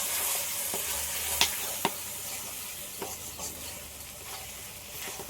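Chicken and fried potatoes being sautéed together in a pan, a steady hissing sizzle broken by a few sharp spoon knocks and scraping stirs, close and without voices.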